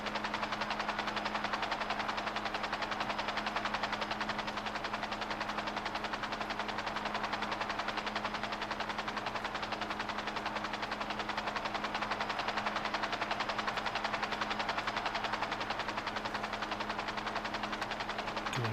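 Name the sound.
aircraft flying over the city in a video game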